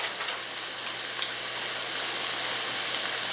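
Chicken seasoned with seasoned salt browns in a frying pan for chow mein, giving a steady, even sizzling hiss that holds close and constant throughout with no talk.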